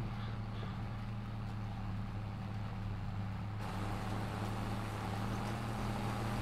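A tractor engine in the farming video game Farming Simulator 22 drones as the tractor drives, a low and steady hum with no other sounds over it.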